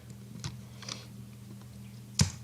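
A few sparse computer keyboard key presses while working in Blender, spaced out over a couple of seconds, light clicks with one sharper tap near the end, over a low steady hum.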